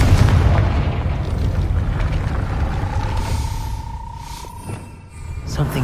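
A Confringo fire spell explodes in the Hogwarts Legacy video game, giving a deep, rumbling boom that swells and fades across the clip, with a thin whistling tone partway through.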